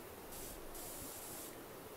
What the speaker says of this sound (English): I'm going to start spraying the front here.